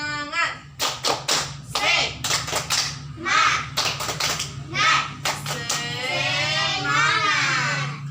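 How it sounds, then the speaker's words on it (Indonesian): A classroom of students performs the tepuk semangat clapping chant, rhythmic bursts of claps and thumps mixed with children's chanting voices, with a teacher speaking and a steady low hum underneath. "kita tepuk semangat dulu ya"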